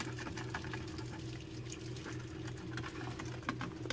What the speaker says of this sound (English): I can simply turn on the water